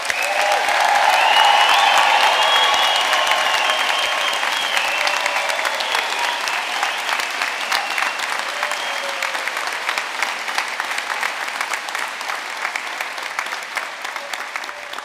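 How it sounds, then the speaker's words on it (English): A large graduation-ceremony audience at Ulster University in Belfast applauds the graduating class of 2025, dense loud clapping with cheers at the start that slowly thins and softens over fifteen seconds in a big hall. "I'd like us all to give a big round of applause for our graduating students, the class of 2025."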